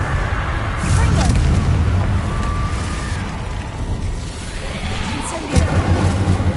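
A Confringo fire spell explodes in Hogwarts Legacy, heard as deep rumbling booms within a constant loud roar of game noise, with a sharper blast near the end.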